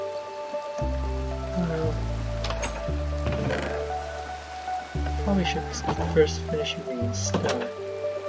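Rain in Minecraft patters steadily throughout the clip, mixed with game music and someone talking over it.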